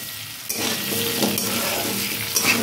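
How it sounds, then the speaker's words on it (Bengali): Eggs sizzle and crackle in a frying pan as they are stirred, the hiss jumping up loudly after a brief quiet start, with a few scraping stir sounds mixed in. "এখন দিয়ে একটু নাড়িয়ে একটু ভেজে নিয়ে লাগিয়ে নেব"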